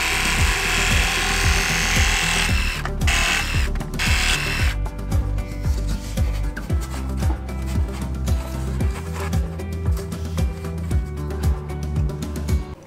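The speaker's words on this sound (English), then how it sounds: "So I'm gonna give it a go with a jigsaw." A jigsaw cuts through Celotex insulation board outdoors, its rapid reciprocating buzz loud and close, running steadily for several seconds with brief pauses and changes in pitch as the blade works through the foam.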